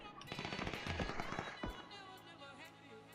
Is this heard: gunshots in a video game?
yes